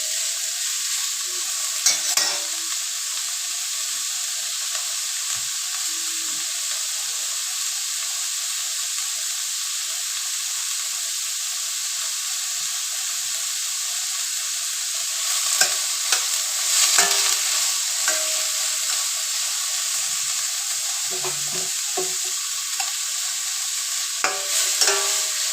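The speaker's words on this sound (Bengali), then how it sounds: "একটা গোটা ক্যাপসিকাম। ভালোভাবে এটাকে ফ্রাই করব।" A whole capsicum fries in a pan on a gas stove, giving a steady bright sizzle and hiss with occasional soft pops and stirring clatters.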